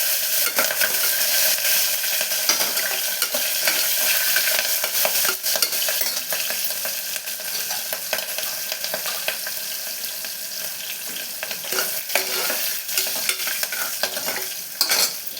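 Green chilies and cashews fry in hot ghee for ghee rice while a spoon stirs them, giving a steady, close, loud sizzle with scraping stir strokes throughout and no talking.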